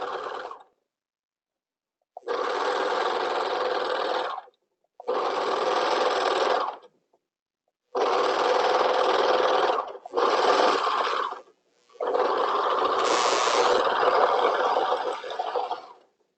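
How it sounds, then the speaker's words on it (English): A serger stitches the leg holes of a tutu in several loud, steady runs of machine whir, each lasting one to two seconds and separated by brief pauses. "So I've serged one leg, just the leg holes first."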